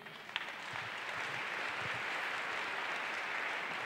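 A church congregation applauding, a soft diffuse wash of clapping that swells after a brief start and holds steady, heard at a distance.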